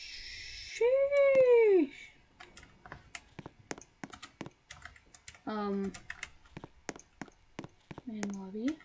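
Rapid computer keyboard clacking during a Roblox game session, irregular bursts of close keystrokes broken up by a loud meowing cat.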